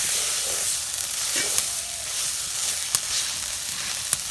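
Banana stem pieces frying in oil in a pan, a steady close sizzle throughout with a few sharp pops and crackles standing out, no talking.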